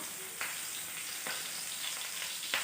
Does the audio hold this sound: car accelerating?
no